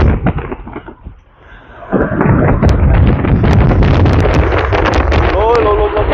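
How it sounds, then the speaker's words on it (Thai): Strong storm wind from Storm Krathon roars steadily and close to the microphone during a power outage, with broad buffeting noise and gusts, and voices speak faintly underneath. "โอ้ยลม"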